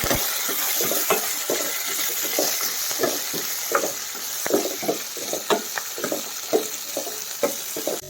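Chopped onion and garlic fry in a pan for a traditional Karnataka-style holige sambar, a steady close sizzle broken by regular stirring scrapes, with no speech.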